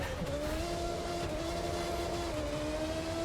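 A Red Bull F1 race car engine in The Crew 2 video game whines at high, steady revs with a gradual pitch sweep, loud and continuous, with no talking.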